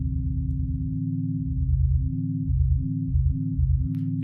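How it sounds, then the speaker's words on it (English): A sine wave run through the Chiral synthesizer effect makes a clean, steady low tone, pulsing on and off in a rhythmic gated pattern with shifting overtones, alone without talk. "So let's listen to what it does with a sine wave."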